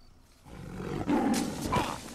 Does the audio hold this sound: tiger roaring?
yes